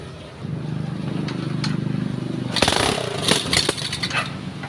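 A motorcycle left unused for several years, with oil put into the cylinder for compression, is cranked and rattles into a rough, sputtering idle, its low engine rumble surging irregularly up close.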